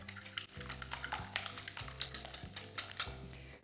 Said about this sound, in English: Let's start whisking. With a whisk or with a fork